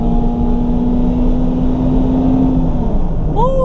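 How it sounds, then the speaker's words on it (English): An automatic 2002 Toyota Celica GTS engine winds up under acceleration, a steady climbing drone heard from inside the cabin, then a quick shift-like drop and fresh rising whine at the end. "Ooh, this engine loves to rev."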